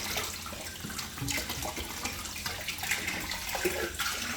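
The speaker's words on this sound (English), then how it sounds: "I paused vacuuming to turn the water back on" Water runs steadily from a hose while a turtle tank is cleaned, a continuous broadband rush and splash that stays fairly loud throughout with no talking.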